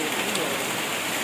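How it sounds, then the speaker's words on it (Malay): Light rain patters steadily at a riverside campsite, a soft continuous hiss of drops close by with no other sounds over it. "Hujan masih rintik-rintik, renyai-renyai."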